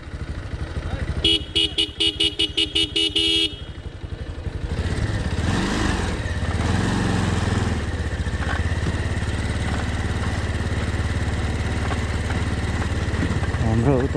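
A motorcycle engine revs and roars steadily up close on a hill road in Palpa, Nepal, after a burst of rapid horn toots at the start.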